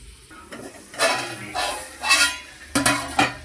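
Chicken curry cooks in a covered pan, giving a low steady simmer broken by a few clear clinks and scrapes of a spoon and lid against the pan.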